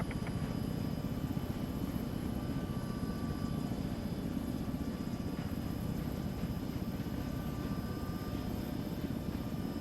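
A Chinook helicopter in a military simulation video game thrums steadily with a dense low rotor chop and engine whine, loud and continuous throughout.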